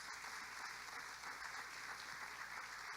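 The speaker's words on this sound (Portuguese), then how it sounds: "Então vamos aplaudir os nossos servos." A church congregation applauding its servers during a communion service, a steady wash of many hands clapping, distant and faint under a low room hum.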